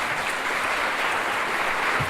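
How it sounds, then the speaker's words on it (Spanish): Audience applause at a political commemoration gathering, a steady broad wash of clapping that stays even and fairly loud from start to finish with no voices over it. "un fuerte aplauso"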